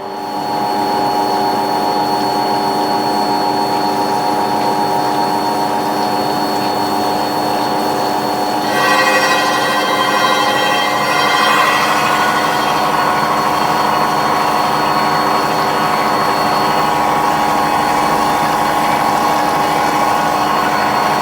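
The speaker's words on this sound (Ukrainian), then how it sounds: "І зараз Тарасик буде шліфувати наш колінвал." A crankshaft grinding machine drones with a constant tonal hum, and a higher grinding whine joins partway through as it grinds a car crankshaft, continuing to the end.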